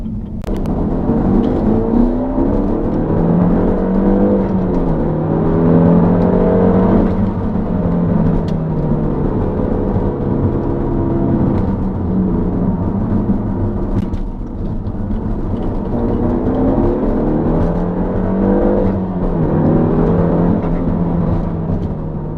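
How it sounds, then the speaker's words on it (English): Car fitted with a Comkotes Tuning TMSR3 aftermarket air intake, heard from inside as the engine pulls through a gentle acceleration, a steady droning whir with rising and falling tones over road rumble, no talk. "Let's do one more little acceleration."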